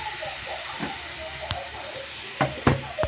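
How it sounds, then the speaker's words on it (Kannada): Chicken and whole spices such as cinnamon sticks frying in a pan, a steady soft sizzle and hiss with a few sharper spits and pops near the end. "ನಾನು ಸ್ವಲ್ಪ ಫ್ರೈ ಆಡಿಸ್ತಾ ಇದ್ದೀನಿ"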